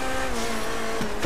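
A car drifting in the video game GTA V Online gives a loud, steady engine drone with a sustained tyre squeal, rising into a brief sweep near the end.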